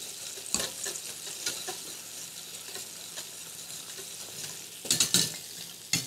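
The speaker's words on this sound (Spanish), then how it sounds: "la vamos a dejar ahí, que aprovechar la energía hasta que se pare de hervir" Sardine escabeche left in a pot off the boil, giving a soft continuous bubbling with occasional clinks and knocks from the pot, close and moderately quiet, with no talking.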